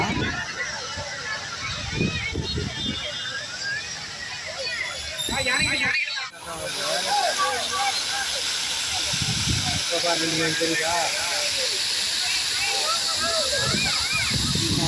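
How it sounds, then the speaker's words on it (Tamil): Steady rushing hiss and splash from a water fountain at the Yercaud flower show, continuous and fairly loud, with people talking over it. "ஃப்ளவர்ஸோட ஹைலைட்டே இந்த ஃபவுண்டன் தான்"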